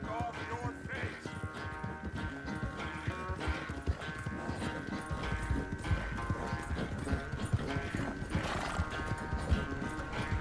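Horse hooves clip-clop steadily in the Red Dead Redemption 2 video game, with a horse neighing along the way, under busy game sounds and some talk.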